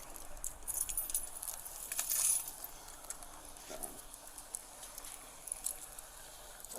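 Keys jangling in a tense roadside encounter with police, with light metallic clinks and rattles coming in brief clusters, fairly close but quiet, amid faint background noise.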